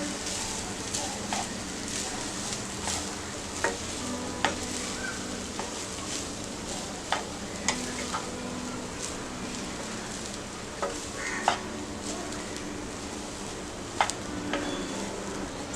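Egg Schezwan rice with spring onions and sauces is stirred in a pan, with repeated spatula scrapes and taps over a steady low sizzle that continues throughout.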